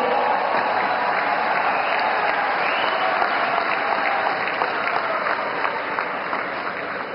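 A large crowd in Mumbai applauds at Devendra Fadnavis's swearing-in as Maharashtra chief minister, with sustained loud clapping and a faint cheering murmur that eases slightly toward the end.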